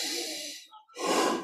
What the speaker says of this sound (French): On inspire par le nez et on expire par la bouche.